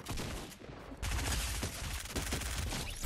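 Shotgun blasts and rapid SMG fire from a Fortnite Mobile match, a loud dense stretch of overlapping shots with a brief lull before the firing surges again.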